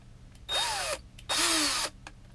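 Power drill with a 5/32 drill bit boring into hockey gear, two separate bursts of whining drilling, the second longer, each rising then dropping in pitch, close and loud with quiet pauses between.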